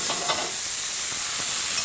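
Mushrooms sizzle loudly and steadily in a hot pan as they are flipped, with a dense close hiss and a few brief bursts of crackle.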